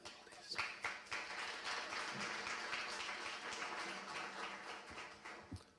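Audience applause fills an awards ceremony hall for volunteers of the year, a steady wash of many hands clapping at moderate distance with scattered louder claps throughout.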